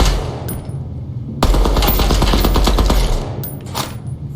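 Rapid automatic hip-fire bursts from a gun in the first-person shooter Deadrop, loud and close, a short burst followed by a longer sustained stream of shots and a few trailing cracks.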